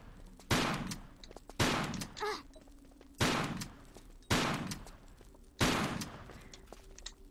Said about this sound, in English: Couple more natives, so I'm gonna ready my shotgun.